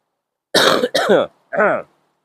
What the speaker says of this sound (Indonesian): Saya lagi batuk